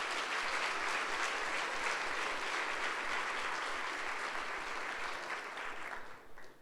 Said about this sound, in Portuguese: Dá um aplauso aí a Jesus